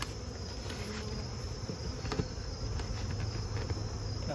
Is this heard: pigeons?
no